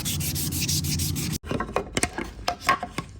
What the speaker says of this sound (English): I really hate sanding